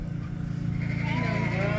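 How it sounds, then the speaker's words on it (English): Sheep bleat on a farm during shearing, a wavering nasal cry rising over a constant mechanical hum, fairly close, with people talking nearby. "Last sheep. Got to go grab it."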